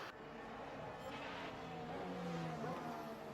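A Formula 1 car's engine held at full throttle during the 2021 season, a steady sustained roar heard from a distance and fairly faint, its pitch rising slightly toward the end.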